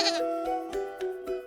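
A sheep bleats in a wavering, pulsing call that repeats in several quick beats, clear and close, ending abruptly with a brighter sound.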